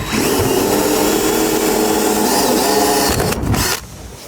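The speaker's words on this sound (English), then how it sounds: "I'm gonna drill the holes all the way through into the steel" A power drill bores holes through steel while a MaxxAir MaxxFan is installed, a loud steady high-pitched whine with grinding that cuts off abruptly near the end.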